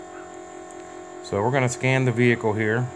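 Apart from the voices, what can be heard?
electric brake motor running in a school bus with key on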